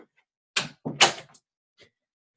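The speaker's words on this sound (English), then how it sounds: "let me close this door just really quick." Close by, an indoor door is pushed shut: a brief rustle, then a couple of solid thuds and a latch click, followed by near silence.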